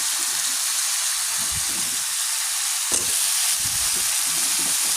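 Potatoes being stir-fried in a pan with salt for an egg dish, giving a steady close sizzle with soft stirring scrapes throughout and one sharper clink near the middle.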